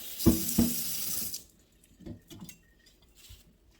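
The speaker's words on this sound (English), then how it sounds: "I'm adding some cold water" Cold water gushes from a kitchen tap into a sink for about a second, then stops, followed by soft clinks and small handling noises.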